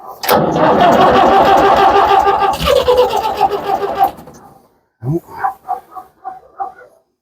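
An old diesel tractor engine cranks loudly with glow plugs, grinding over for several seconds before cutting off, followed by a few short uneven chugs.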